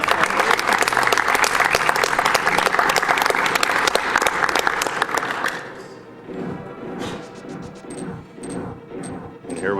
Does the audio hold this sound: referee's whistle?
no